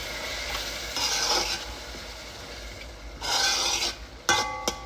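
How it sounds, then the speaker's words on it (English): A spoon stirs beans and olives in a pot for Puerto Rican rice and beans with ham, giving a few short scraping, rasping strokes with soft sizzling between them, close and without talk. "We're gonna give this a stir."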